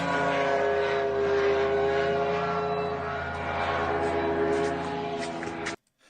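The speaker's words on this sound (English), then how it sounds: "we hear the drone just kind of whizzing over" Drone flying overhead near an airfield during wartime, a sustained droning engine hum with harmonic tones that rises and fades as it passes, then cuts off abruptly at the end.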